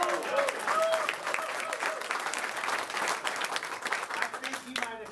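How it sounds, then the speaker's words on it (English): A crowd at a fundraiser breaks into steady, sustained applause, with a few whoops and voices mixed in, filling the room at a fairly loud level. "More applause than a DA finally."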